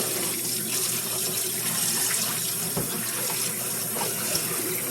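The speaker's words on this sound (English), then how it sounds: "I will wash the sink out" Tap water pours steadily into a kitchen sink while deep fryer parts are washed, a constant close rushing splash with faint clinks and no talking.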